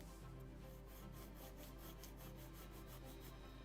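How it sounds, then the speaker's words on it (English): A sanding block rubs back and forth on a soft wood plank of a 1:76 scale Mayflower model hull in steady rhythmic strokes, faint and close, with no voices. "I just will use such sanding block to narrow it, because it's very soft wood"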